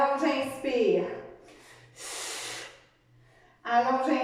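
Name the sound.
deep inhaling during a cardio workout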